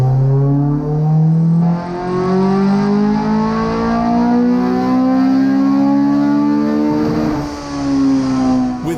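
A VTEC-swapped Mini's engine revs steadily all the way out on a dyno power run, a loud rising harmonic whine climbing for several seconds, then dropping off sharply near the end as the throttle is released.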